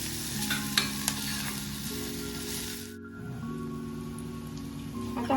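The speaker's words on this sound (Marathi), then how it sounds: "त्यामध्ये आपण किसून घेतलेलं सुकं खोबरं टाकायचं आणि ते तेलात अगदी चांगलं भाजून घ्यायचं" Grated dry coconut roasting in oil in a pan with fried onion and tomato for a Konkan-style black pea usal, a steady close sizzle with scraping stir strokes and a brief dip near the middle.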